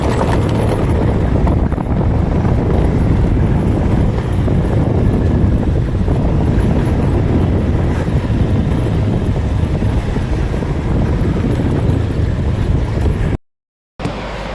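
Honda Beat V2 scooter with a faulty throttle body, its engine sputtering and dropping out at about 60 kph; a steady, loud, wind-buffeted drone runs throughout, cutting out briefly near the end.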